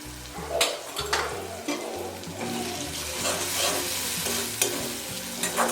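Turmeric, garam masala and red chili powder being stirred and fried in a pan for egg bhurji: a steady close sizzle with repeated scraping stirs and spatula knocks, no voices.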